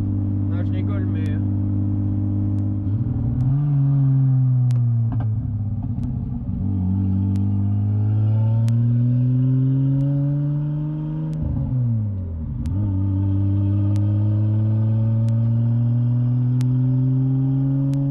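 BMW 325i E36 with a turbo conversion revving while stationary, a steady engine drone that rises and falls through several throttle sweeps, with people talking over it.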